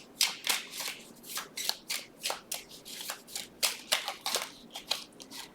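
Zodiac fortune-telling cards being shuffled by hand in a quiet room, a string of crisp riffling bursts in an irregular rhythm, close and fairly soft.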